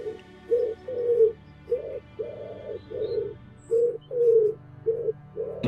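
Pigeons coo close by as they are fed, giving a steady run of about nine soft, rounded coos in a loose rhythm, with no talking.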